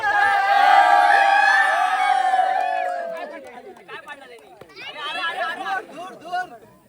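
A village crowd cheers and chatters loudly as Aved Antar's runner-up team accepts its trophy at the Soveli Chavanwadi Premier League cricket final, with excited voices swelling at the start and then continuing in scattered bursts.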